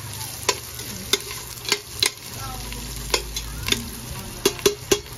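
A spoon stirs ginger in a cooking pot, scraping and clinking in sharp repeated knocks over a low sizzle, close by and without speech.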